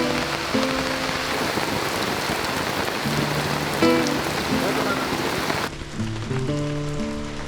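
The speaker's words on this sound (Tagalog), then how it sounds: "At sa kalagitnaan ng pagluluto ay bumuhos ang napakalakas na ulan." Heavy rain pours steadily over a camping spot in the middle of cooking, a dense, loud hiss that goes on without a break while music plays alongside it.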